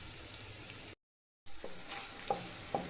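Crushed garlic, ginger and chillies fry in a pan for a chicken gravy. The sizzle is soft and steady, broken by a short silent gap, with a few light stirring clicks after it.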